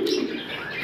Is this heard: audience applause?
no